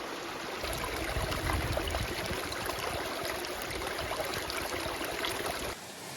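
A waterfall in remote South Carolina woods makes a steady, moderately loud rush of falling water, continuous throughout with no talking, dropping slightly in level near the end.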